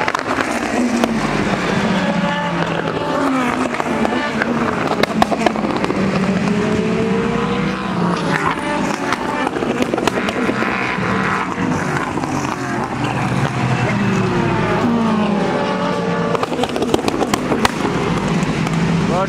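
Loud, continuous roar of race cars at the ELMS 4 Hours of Spa endurance race, engine tones rising and falling as cars pass, with a busy, dense texture throughout and no clear pauses.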